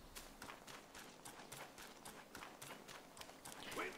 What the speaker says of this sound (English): That guy made a horse noise.